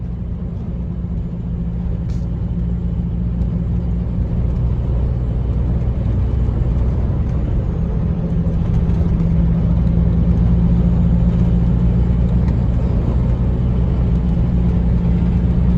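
A car speeding along a road, with a steady loud engine rumble and road roar heard from close by inside the vehicle, unbroken for the whole stretch and with no talk over it.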